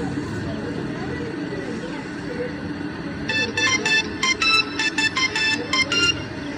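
A mobile phone, a Khichda K115, plays a bright chiming startup melody of rapid tones that begins partway through, over a steady background of room noise and murmuring voices.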